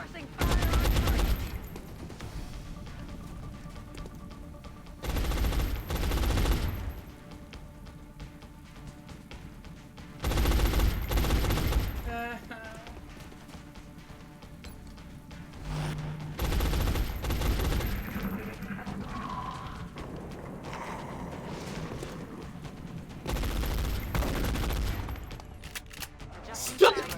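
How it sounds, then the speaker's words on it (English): Suppressing gunfire in XCOM: Enemy Unknown, loud bursts of automatic fire arriving in several separate salvos a few seconds apart, with quieter game ambience and some voice between them. "Suppressing fire on target"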